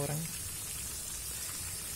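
Food fries in a pan of oil, a dense, steady crackling sizzle close by, with a person talking over it at the start.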